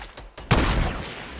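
Burst of rapid gunfire from an opponent in Fortnite Battle Royale, a sharp onset of loud overlapping shots after a few fainter cracks, ringing on briefly.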